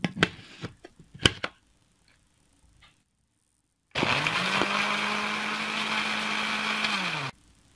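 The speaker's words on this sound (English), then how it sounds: "Now blend all the ingredients together in the blender and then strain it." A kitchen blender whirs steadily for about three and a half seconds, blending fennel seeds with lemon juice and water, its motor pitch holding even before cutting off abruptly; a few soft clatters and knocks precede it.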